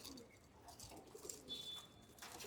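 Domestic racing pigeons in a loft coo softly in low, murmuring calls, faint and distant under a quiet background hiss.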